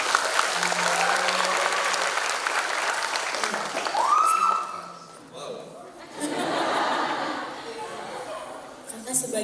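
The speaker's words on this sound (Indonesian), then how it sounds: "Tepuk tangan dulu dong." Audience applause in a university lecture hall during a guest talk at ISBI Bandung, clapping mixed with chuckles and chatter, dipping midway then swelling again with laughter and voices.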